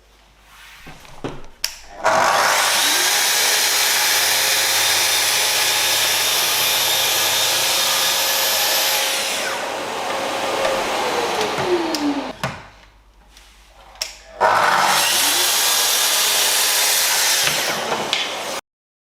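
Festool TS55 FEQ plunge saw making a shallow 2 mm scoring pass while pulled backwards, heard as two loud, sustained whining cutting runs separated by a brief quieter gap, with no talking.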